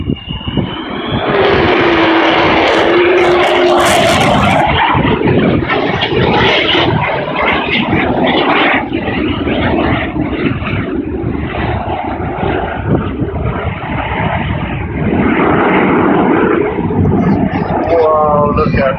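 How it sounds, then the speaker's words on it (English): An Avro Vulcan bomber makes a loud, roaring pass at the Cosford airshow, its engine noise sweeping through the whole stretch while a spectator talks over it. "Now I think this may be her last pass"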